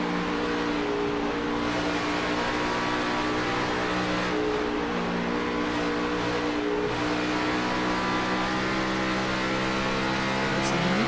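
A stock-car engine in a NASCAR-style sim race at Darlington drones loud and steady throughout, its pitch holding with slight rises as the throttle is worked, carrying on alone without talk.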